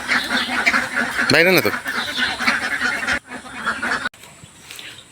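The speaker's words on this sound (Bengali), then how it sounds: "এগুলো হচ্ছে বড় সাইজ হাঁস।" Large domestic ducks on a village farm give a loud nearby honking quack amid other farmyard noise, with people talking throughout.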